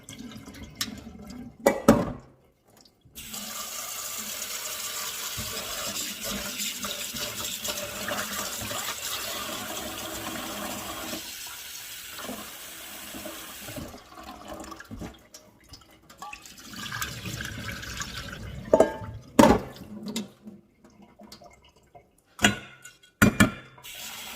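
Sticky rice washed under running tap water, a steady stream pouring for several seconds, then splashing, sloshing and drips as the grains are rinsed, nearby and without talk.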